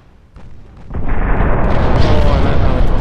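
Torpedoes from Ultimate Admirals: Dreadnoughts strike a ship in a German cruiser campaign, rising into a loud, sustained roaring blast with deep rumble and crackling spray that keeps going after a faint thud lead-in.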